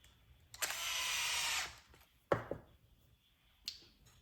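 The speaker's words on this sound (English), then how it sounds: "Really love this Makita driver here." Makita electric driver running screws into the transmission cover of an XRAY XB2D RC car: one sustained whir of about a second, then sharp clicks and a brief tap, close and clear with no talk.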